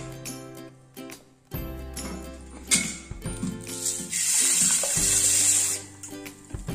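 Long-grain basmati rice is rinsed by hand in water for a restaurant-style mandhi, with splashing, swishing water and clinking against the vessel, growing busier and louder midway.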